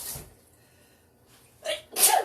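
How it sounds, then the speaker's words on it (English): A sharp, close sneeze bursts out after a brief intake of breath, preceded by a short sniff. "Oh, that pepper's gonna make me sneeze."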